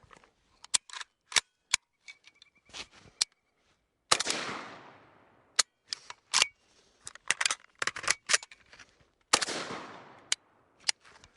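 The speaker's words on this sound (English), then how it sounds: "now I'm gonna set up for the bolt hold open reload" Rifle bolt-hold-open reload with magazine handling: a series of sharp, loud metallic clicks and clacks, some isolated and some in quick clusters, plus two louder ratcheting snaps of the action, close up with no talking.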